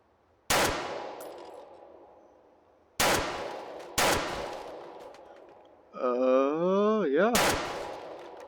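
Four sharp, loud 308 DMR rifle shots in the H3VR video game, spaced irregularly with long decaying echoes, plus a brief warbling electronic tone between the third and fourth shots.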